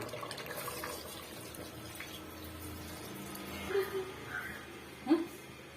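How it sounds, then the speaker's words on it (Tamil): Water pours steadily into a pressure cooker for chicken biryani at close range, a continuous splashing wash with a few louder knocks near the end. "இப்போ வந்து நம்ம தண்ணி ஆட் பண்ணிக்கலாம்"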